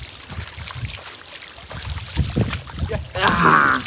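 A bull swims through water, with continuous sloshing and splashing and a louder surge of water near the end, close by and fairly loud.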